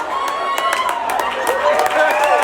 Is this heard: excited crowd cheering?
yes